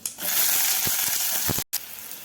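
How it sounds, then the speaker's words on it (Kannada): Hot oil sizzles loudly and steadily as cumin, mustard seeds, chana dal and onion are added for tempering, with a few soft stirring knocks and a brief drop to near silence before the frying resumes. "ಎಣ್ಣೆ ಕಾದ್ಮೇಲೆ ಅದಕ್ಕೆ ಜೀರಿಗೆ ಸಾಸಿವೆ ಒಗ್ಗರಣೆ ಹಾಕೋಣ"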